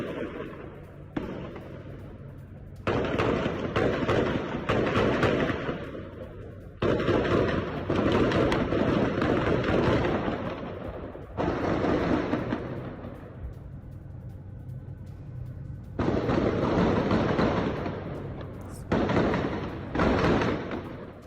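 Heavy bursts of gunfire in Jenin in the West Bank. Dense, loud volleys come in several blocks over about twenty seconds, broken by short lulls, with no talk.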